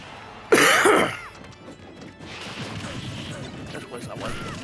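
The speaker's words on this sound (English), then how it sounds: "Just wish I wasn't coughing all the dang time." A single harsh cough bursts out close and loud, followed by quieter throat noise and background sounds from a Wii U Super Smash Bros. session.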